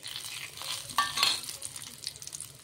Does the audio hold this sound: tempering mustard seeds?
yes